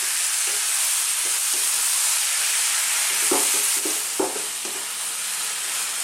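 Chili con tofu sizzles in a hot pan, a steady loud frying hiss broken by several close scrapes and clacks of a spoon stirring, with no one talking.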